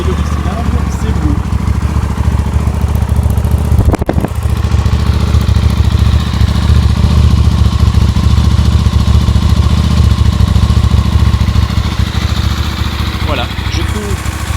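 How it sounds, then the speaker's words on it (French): A KTM Duke 890 R motorcycle engine catches with a sharp burst, then settles into a loud, steady, close idle that runs continuously with a low, throbbing rumble. "Je vais maintenant la mettre en route et vous faire entendre le son"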